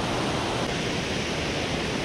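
Water rushes forcefully beneath the old British-era Jokadia bridge in Jajpur, a loud, dense, unbroken roar of river flow heard close and alone, without talk.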